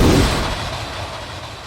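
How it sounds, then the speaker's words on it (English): An RPG rocket launcher fires in a video game: a single loud blast at the very start that quickly decays into a fading rumble. "So you've got your RPG as well, which really does give out"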